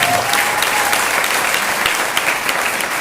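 Steady, dense applause from a crowd, many hands clapping continuously at an even level for a few seconds with no voices standing out.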